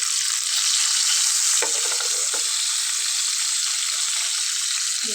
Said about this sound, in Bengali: প্রথমে মাথাটা একটু ভালোভাবে ভেজে নিতে হবে এবং আমি তেলের ভিতরে একটু হলুদ দিয়ে দেবো